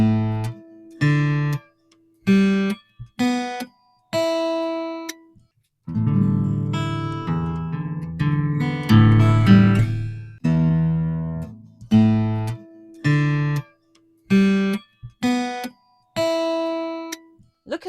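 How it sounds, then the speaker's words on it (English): An acoustic guitar with freshly replaced new strings, tuned, played in separate ringing strums and plucks with gaps between, then a denser run of strummed chords in the middle before returning to spaced single strums; loud and close. "now I'm going to play the strings and you will hear the difference."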